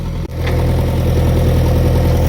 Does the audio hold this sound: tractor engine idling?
yes